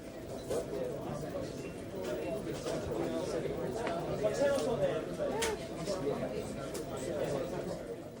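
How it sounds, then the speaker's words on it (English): Busy office ambience with a constant murmur of many voices, light clatter and occasional clicks, steady and moderately quiet throughout. "choose some office sound effects from a sound library"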